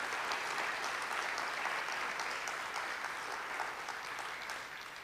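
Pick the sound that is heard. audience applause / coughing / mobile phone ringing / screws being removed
audience applause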